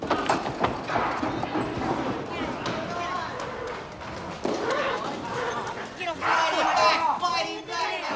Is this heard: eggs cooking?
no